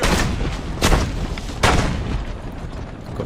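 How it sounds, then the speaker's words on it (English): A machine gun carriage fires in Assassin's Creed Brotherhood, with two heavy booming blasts about a second apart ringing out loud and close over a continuous rumbling background. "Stop the thing, machine gun carriage."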